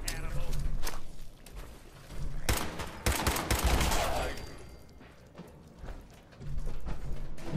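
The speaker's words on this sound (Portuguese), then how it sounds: "Bom que a explosão tá muito grande." Bursts of gunfire and a heavy explosion crash through Fallout 4 combat, sharp shots clustered in rapid volleys with loud booms between quieter stretches.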